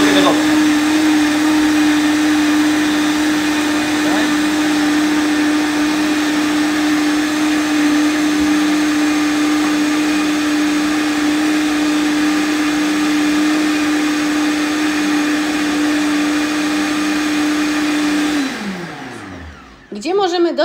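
A kitchen blender purees pineapple for a smoothie with a loud, steady high-pitched whine and roar that runs continuously, then spins down and stops near the end.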